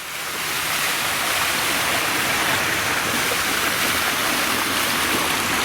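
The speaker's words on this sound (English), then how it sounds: "shit and piss water flowing into the street." Sewage water rushes and gushes continuously into the street, a steady loud hiss like a strong outflow pouring nearby, with no voices.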